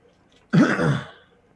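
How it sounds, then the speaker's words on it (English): A single short, close throat-clearing cough, a gruff burst lasting under a second that fades quickly into quiet. "Sorry for the coughing."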